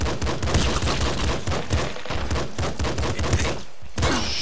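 Rapid pistol fire from the top-down shooter Nuclear Throne, a steady stream of punchy game shots with blasts and hits layered over busy game audio, loud and continuous for several seconds.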